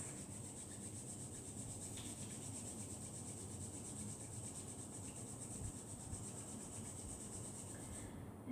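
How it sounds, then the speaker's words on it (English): Palms rubbed together during a guided yoga relaxation, giving a steady, continuous soft swishing friction that runs evenly from start to finish, close and unaccompanied by talk. "Start to rub your palms together"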